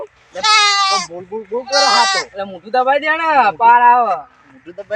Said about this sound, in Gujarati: આ મારો બકરો કોણ લઈ ગયો છે